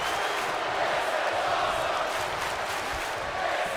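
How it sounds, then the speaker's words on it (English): A raucous arena crowd roars continuously during a WWE 2K24 steel cage match, a dense, steady wall of cheering and yelling with no break. "What a raucous crowd here tonight."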